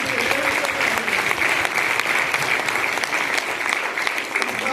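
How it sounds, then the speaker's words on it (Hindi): Loud applause from an audience at a DXN product camp in Amritsar, dense continuous clapping that fills the room at an even level throughout, with a voice briefly audible beneath it. "मैं चाहूंगा ये पावरफुल प्रोडक्ट के लिए जोरदार तालियां।"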